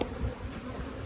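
Honey bees buzz at an open beehive during a nectar flow, a dense, steady, close hum of many insects lasting about a second.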